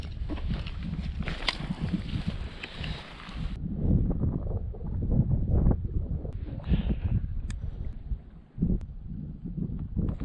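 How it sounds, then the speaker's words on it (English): Wind gusting up a mountain valley and over a small knob near a hunting camp, a steady broad rush with buffeting against the microphone and a louder, brighter stretch at the start. "The bulk of the wind that's shooting up the valley is coming over this little knob in front of me"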